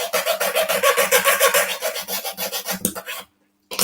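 A hand tool shaves the wood of a Titanic model kit in quick, rhythmic rasping strokes, about a dozen close scrapes in a row, and then stops abruptly.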